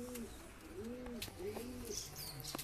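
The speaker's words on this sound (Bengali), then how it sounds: "এই যে মেয়ে পায়রাটা।" Soft repeated cooing from a pigeon in a small loft, several rising-and-falling coos in quick succession, close but quiet.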